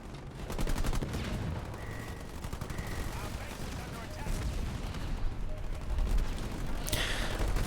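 Rockets and grenades fired during a Halo Wars 2 match, a steady barrage of booms and gunfire rumbling across the battlefield while a commentator talks over it.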